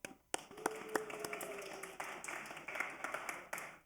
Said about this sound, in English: I would like to literally give them a round of applause.